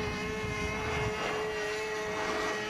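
A propeller aircraft flying aerobatics at an air show gives a steady, loud engine drone with a sustained tone that holds evenly throughout.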